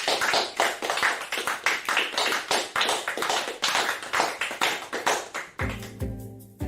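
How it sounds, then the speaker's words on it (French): A group applauds together at the close of a two-day workshop at an adolescent day centre, the rapid clapping steady and fairly close for several seconds before stopping into quiet room tone. "je pense qu'on peut s'applaudir sur le travail de ces 2 journées"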